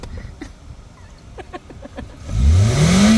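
A car driven by a young boy revs up near the end, its engine note rising steadily and loudly after quieter moments of faint rustling and small clicks.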